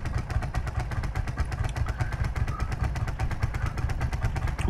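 A tractor engine running in a farming video game: a steady, close, chugging idle with a fast, even pulse throughout and no voices.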